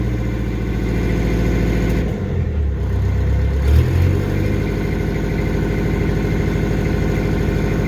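The engine of a Scenicruiser 858 bus under repair holds a loud, steady high idle with a deep continuous drone, dipping briefly and surging once midway as the throttle shifts, close up and with no talking.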